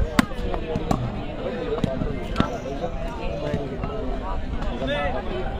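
Firecrackers pop at an outdoor village volleyball match, several sharp bangs standing out over a busy crowd and nearby voices.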